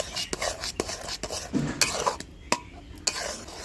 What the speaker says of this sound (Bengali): এবার এই সবগুলোকে একসাথে মিশিয়ে নিচ্ছি।